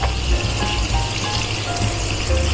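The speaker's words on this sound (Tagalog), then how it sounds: "gigisa lang natin yung ating aromatics hanggang sa maging mabango na sila" Butter and four cloves of garlic sizzle in a pot with olive oil, a steady close crackle and hiss of frying with no talking.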